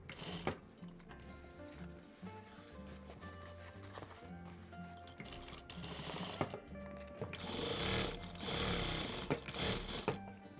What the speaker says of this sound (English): So I've sewn all around